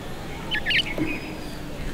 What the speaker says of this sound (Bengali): এটা কোয়েল পাখি।